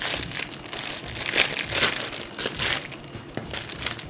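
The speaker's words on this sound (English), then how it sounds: "rip open the last plastic bag to be able to build and talk." A plastic bag is ripped open up close, giving a series of loud crinkling and tearing rustles in uneven bursts.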